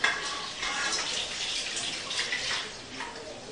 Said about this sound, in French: versez le lait et les œufs dans un mélangeur avec de la farine